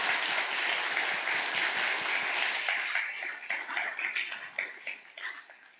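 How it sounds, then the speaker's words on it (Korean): A church congregation breaks into sustained applause during a Sunday service, a dense wash of many hands clapping that holds steady and then thins into scattered claps as it fades. "감사와 영광의 박수 올려드리겠습니다"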